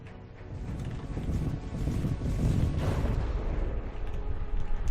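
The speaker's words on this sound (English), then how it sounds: "A large explosion there received from the enemy." A large explosion rumbles in the naval combat game From the Depths as enemy fire strikes a ship, a deep, sustained roar that builds and then holds with a wind-like wash and no talking.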